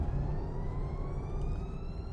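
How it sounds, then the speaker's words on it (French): An ambulance siren in Euro Truck Simulator 2 wails steadily from behind the truck, its rising tone layered over a loud, continuous low engine and road rumble, with no talk. "je pense qu'il y a une ambulance derrière."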